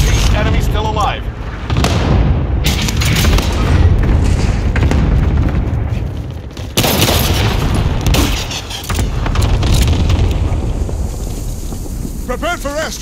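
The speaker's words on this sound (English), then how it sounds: "Strike inbound. Prepare for airstrike. Got your request. Cluster strike is active." Cluster airstrike in Call of Duty Warzone, a string of heavy booming explosions rolling over several seconds with gusty roar between blasts, while voices talk over the din.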